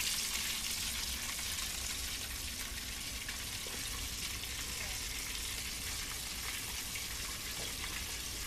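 Steady, dense sizzling and crackling of food frying in hot oil, loud and close, continuing evenly throughout with no voices.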